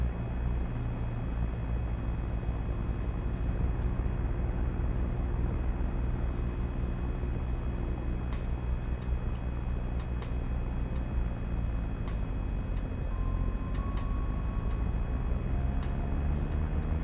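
Seaplane engine in the Lakehopper video game holding a steady low drone as the plane turns with the thrust reverser engaged, a continuous rumble with faint clicks and a slight pitch shift near the end.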